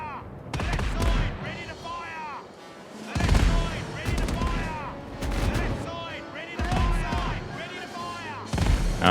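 Ship cannons fire in a naval battle in Caribbean Legend, a game, with repeated booming blasts in uneven bursts over steady speech.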